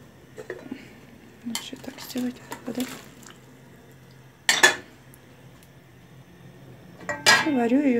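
Cauliflower is dropped piece by piece into a pot of salted, boiling water. Several separate clinks and splashes ring out of a quiet kitchen, with two sharper knocks of metal on metal near the middle and at the end.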